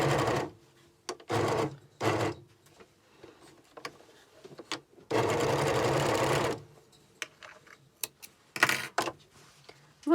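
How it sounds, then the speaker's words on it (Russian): Overlock sewing machine stitching the edge of a trouser side pocket: several separate bursts of fast, buzzing mechanical whirring, the longest about a second and a half, with quiet clicks and handling noises in between. "переезжаем оверлоком и все"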